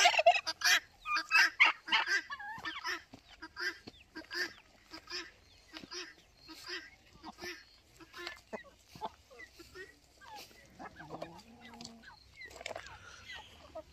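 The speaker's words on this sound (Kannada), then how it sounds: "ಸುಮಾರೊಂದು 70-80 ಕೋಳಿ ಏನೋ ಸಾಕಿದ್ದಾರೆ." Farm poultry, around seventy to eighty chickens plus other kept birds, cluck, gobble and honk in loud bursts that fade into quieter scattered calls, with faint talk in the background.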